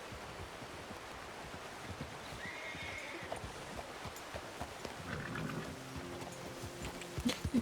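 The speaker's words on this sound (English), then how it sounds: "See, he's a good horse." A horse in Red Dead Redemption 2 whinnies faintly in the middle distance, with soft hoof clops and splashing underneath and a few louder thuds toward the end, no talking.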